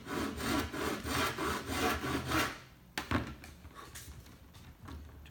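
A hand saw starts a cut in wood: about six steady back-and-forth rasping strokes, close and moderately loud, then a clack and a few quieter scrapes as the sawing trails off, with no one speaking.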